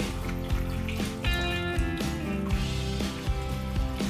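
Water pours steadily into a pot holding milkfish seasoned with salt and oyster sauce, a soft continuous splashing and trickle close by with no talking.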